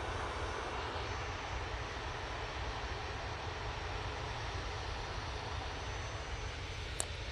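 An Airbus A320-200 inbound to Manchester Airport from London produces a steady, broad engine roar that holds evenly throughout at moderate distance, with a brief click near the end.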